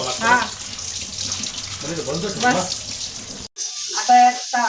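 Vegetables rinsed under a running kitchen tap, with water splashing in bursts and briefly cutting out near the end while a voice talks over it.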